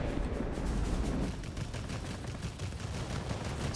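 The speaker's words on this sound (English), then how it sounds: "just like a spray of 30mm cannons tends to do the job against the soft targets" Sustained rapid 30mm cannon fire in World of Warplanes roars continuously, a dense rattling burst with heavy low rumble throughout, loud and close.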